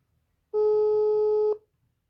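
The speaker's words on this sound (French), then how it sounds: "J'appelle ma soeur en live" Telephone tone on a call to a sister, one steady electronic beep lasting about a second, loud and clear against silence.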